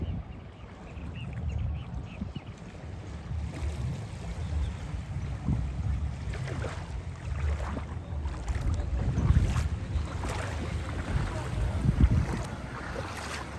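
Jet ski on a reservoir, its motor a low rumbling drone mixed with wind buffeting and water splashing, steady and moderately loud throughout with faint voices now and then.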